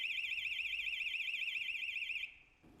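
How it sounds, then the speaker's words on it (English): A house alarm near a street scene in London sounds a loud, steady warbling electronic tone that cycles rapidly for about two seconds, then cuts off abruptly. "As he inspects a house alarm close to the scene"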